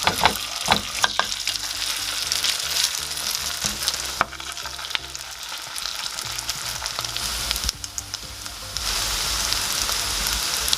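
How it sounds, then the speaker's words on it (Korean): Spoonfuls of sweet potato and egg batter sizzle in oil on a preheated square pan over medium heat, a dense, close frying crackle with a few sharp clicks and shifting intensity, and no speech. "예열된 사구팬에 식용유를 두르고 한 스푼씩 떠놓아 중불에서 노릇하게 구워줍니다."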